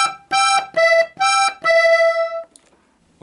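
A G-tuned button accordion plays the sixth in E with a bellows sweep: four bright sustained chords in quick succession, close and loud, ending abruptly.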